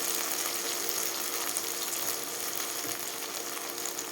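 A steady, dense hiss of hotdogs sizzling in a hot pan with a little water, continuous and fairly loud with no pauses.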